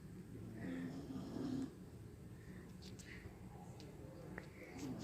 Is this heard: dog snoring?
yes